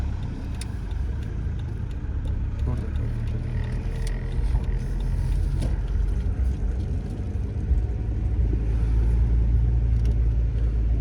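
A car on a Kyiv driving-test route rolling through a slow left turn, a steady low engine and road rumble heard from inside the cabin at constant level.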